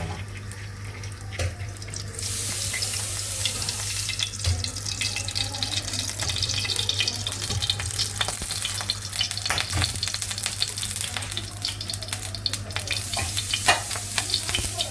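Chicken pieces fry in caramel in a tilted wok with a loud, continuous hissing sizzle over a low steady hum, with occasional stirring knocks and no talk.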